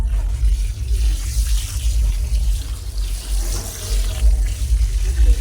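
Drumsticks for sambar get washed under running water, a close, continuous splashing and gurgling stream with uneven surges and no voices.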